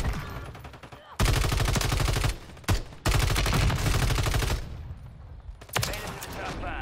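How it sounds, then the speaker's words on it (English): Rapid automatic gunfire in Warzone 3, loud and close in long sustained bursts broken by brief pauses, with a short burst near the end and a voice briefly calling out. "Shoot him again, shoot him again."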